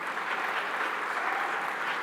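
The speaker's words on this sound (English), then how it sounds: "Let's give a round of applause to our chairman" At a business power breakfast in New York, the audience gives a round of applause for its chairman, an even wash of many hands clapping, steady and fairly soft, with no talking.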